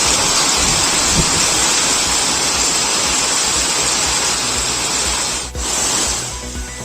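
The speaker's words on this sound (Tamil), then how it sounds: "சிவகங்கையில் ரயில் நிலைய மேற்கூரையிலிருந்து நடைமேடையில் கொட்டிய மழை நீர்." Heavy rainwater pours and splashes down constantly from a railway station roof onto the platform in Sivaganga, a dense, roaring wash, with a brief dip near the end.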